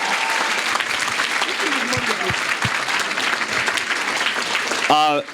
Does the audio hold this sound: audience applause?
yes